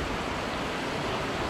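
Torrential rain pouring down during a fishing trip, a dense steady broadband hiss that fills the clip evenly and loudly with no voices.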